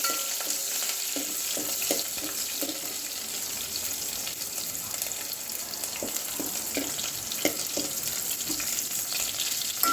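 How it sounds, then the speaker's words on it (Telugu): Onions with curry leaves fry in oil for masoor dal with amaranth greens, a steady close sizzle marked by soft stirring scrapes at irregular intervals. "ఆనియన్స్ కొద్దిగా రెడ్ కలర్ వచ్చే వరకు వేయించుకోవాలండి"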